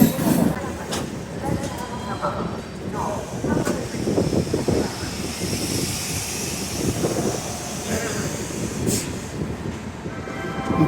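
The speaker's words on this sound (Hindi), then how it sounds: "पूरे 20 मिनट की देरी से हमारी ट्रेन पहुंच चुकी है फाइनली वाराणसी जंक्शन" Sadbhavana Express train pulling into Varanasi Junction platform, a steady rumbling rail noise with clanks and wheel squeals, continuous and moderately loud with occasional voices around the station.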